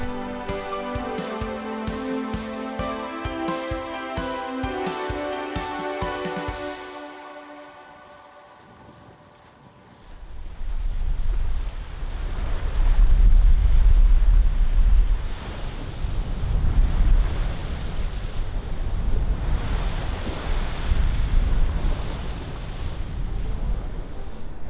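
Aboard an Oyster 495 sailing yacht at night off the French Riviera, steady wind rushes over the microphone and waves wash against the hull, loud and continuous, after a brief fading tonal passage at the start.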